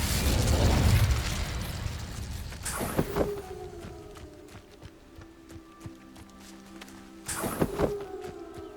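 An Incendio fire spell cast in the game Hogwarts Legacy produces a loud whooshing burst of flame at the start, followed by sharp pops and clattering impacts, then a lingering tonal hum and a second burst near the end.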